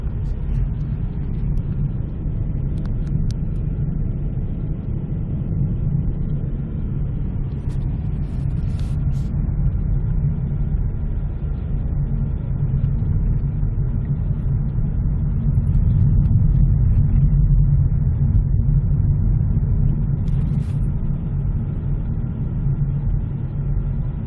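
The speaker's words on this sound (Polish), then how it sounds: "Jedziemy w kolumnie, 45 na godzinę, szybciej się nie da." A car drives slowly in a column of vehicles along a snowy regional road in early spring, its engine and tyres making a steady, low rumble with no talking.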